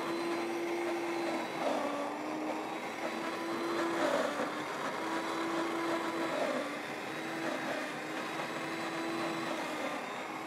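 An electric mixer beats cake batter of eggs, vanilla, ghee, sugar and starch, giving a steady close whirring hum that runs unbroken with slight pitch dips as it churns.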